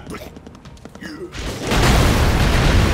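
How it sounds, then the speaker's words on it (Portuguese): Grenade explosion in the video game Broforce, a loud booming burst about midway that swells into sustained roaring rumble, following a stretch of game sounds and voice-like chatter. "Caramba, tô tacando granada."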